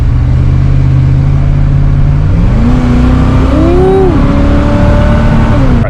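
A Chevrolet C1500 pickup truck with a 5.7 engine idles loudly, then revs up with rising pitch, holds high, and drops back, all close and without speech.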